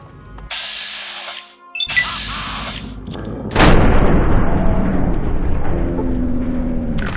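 A frag grenade blows up in Fallout 3 with a sudden loud blast that rolls into a long, dense rumble. Sharper game effects and tones come before it, and no one speaks.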